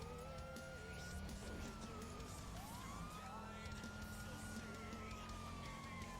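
Police car sirens wail and sweep through a GTA Online chase, a rising and falling electronic tone layered over engine rumble and gunfire-like clatter, steady and fairly close throughout.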